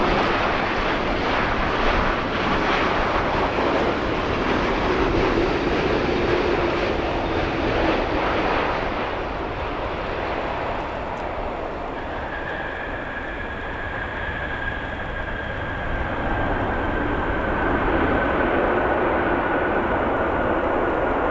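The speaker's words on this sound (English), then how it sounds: "this American Airlines flight arriving after 8 hours and 30 minutes or so." An American Airlines jet airliner arriving at O'Hare International Airport after a long flight from Barcelona, a loud steady roar of engine noise that fills the whole span, with a thin whine appearing midway as the aircraft passes nearby.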